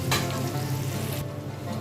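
Potatoes frying in hot oil in a pan, a loud bright sizzle up close that drops sharply in intensity partway through, leaving a softer crackle.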